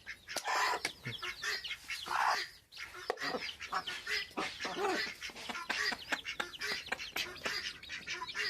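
Chickens, ducks and other poultry cluck and squawk in a busy, overlapping chorus as they crowd around chick feed, close and steady throughout.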